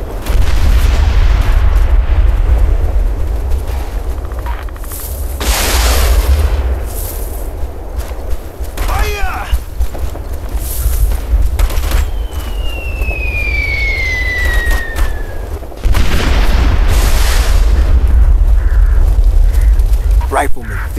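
Heavy gunfire and booming explosions from the Operation Flashpoint Red River military video game roar continuously and loudly, with sharp shot bursts and a whistling projectile, while soldiers' voices shout over the battle.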